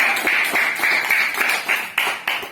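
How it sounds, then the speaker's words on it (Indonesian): A group claps together at the opening of a school physical education class. The clapping is steady and close, with a rough shared rhythm and a few sharper accented claps, and no talk. "Terima kasih, tepuk tangan."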